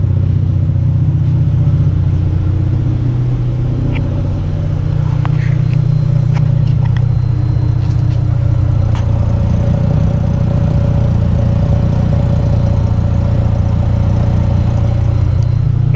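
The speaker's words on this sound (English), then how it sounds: "So now it's at about a full low idle." Close and loud, a 1985 Mazda RX-7 GSL-SE rotary engine holds a steady low idle, a continuous throbbing drone marked by a few faint clicks and small knocks.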